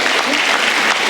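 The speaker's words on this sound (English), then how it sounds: "Please give them a big round of applause." Audience at an awards gala applauding, a brief dense burst of clapping, loud and close, with no talk over it.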